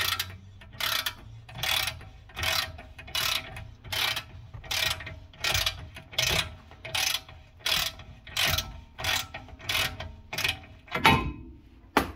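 A ratchet wrench clicks through repeated, evenly spaced bursts while loosening a long bolt on a rear shock absorber of a VW Passat B TDI, close and moderately loud with no talk.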